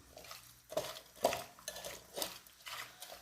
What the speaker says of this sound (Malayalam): ഇവ ചേർത്ത് നന്നായി ഇളക്കുക.